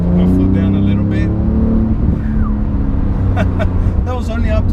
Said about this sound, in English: Put my foot down a little bit.